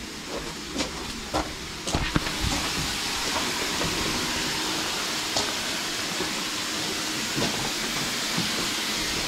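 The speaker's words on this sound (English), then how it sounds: "Sounds like we got a leak in here." Steady, close hiss of air leaking from pneumatic silicone animatronic figures in a haunted attraction's asylum cave scene, continuous throughout with a few faint clicks near the start.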